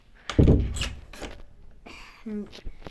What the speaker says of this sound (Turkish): Artık kapan bir kapı ya.